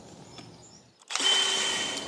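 A power drill drives a peg through during assembly of a PodiTrap. After a quiet second the drill kicks in abruptly and whirs loudly and steadily to the end.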